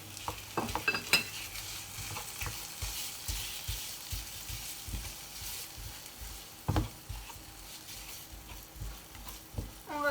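Onions caramelizing in a pan sizzle softly and steadily while a utensil stirs them, with irregular scrapes and clinks against the pan, close and fairly quiet, no talking.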